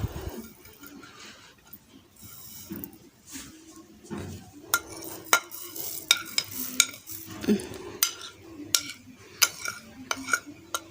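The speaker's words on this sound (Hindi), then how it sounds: "तो ये सारे मसाले हम आटे में मिक्स कर लेंगे।" Spices (chili, salt and pomegranate seeds) are worked into flour for missi roti dough, with repeated sharp clinks and scrapes of a spoon against a bowl, close and irregular, and no talking.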